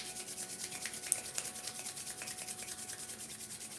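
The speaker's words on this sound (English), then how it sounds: "rub your palms together" Two palms rub together in a quiet room, making a soft, steady, faint swishing friction with a slight rhythmic back-and-forth.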